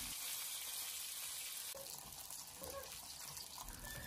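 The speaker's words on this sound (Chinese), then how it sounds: "用锅铲给它翻个面，然后继续的用同样的方法去小火慢煎，将边鱼煎至两面金黄焦香" Fish slowly pan-frying over low heat, giving a soft continuous sizzle with a faint watery hiss, quiet and alone with no talk.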